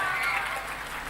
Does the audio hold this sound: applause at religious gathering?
yes